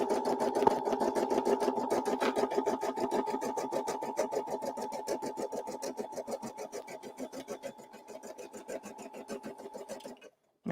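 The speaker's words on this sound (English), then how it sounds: "And now we'll stitch again." An embroidery machine stitching an in-the-hoop item, a fast, steady mechanical rhythm of needle strokes running close and even for about ten seconds before stopping abruptly.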